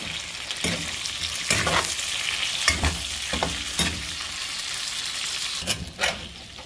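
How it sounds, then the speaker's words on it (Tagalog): Steady hiss of tuna belly frying in hot oil, with occasional stirring scrapes and bursts of sizzle, close and continuous. "Sama ko na rin yan para ma-prito na rin ito."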